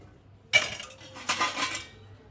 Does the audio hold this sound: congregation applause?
no